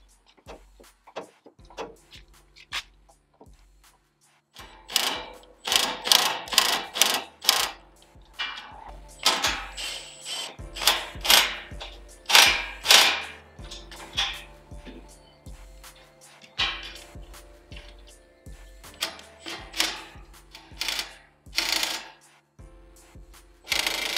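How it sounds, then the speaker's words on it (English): A ratchet snugging nuts and bolts on grill guard brackets of a 2022 Sierra 2500HD, with bursts of quick metallic clicking and clinks in uneven runs, close up, quiet at first and then busier and louder. "We snug all our nuts and bolts."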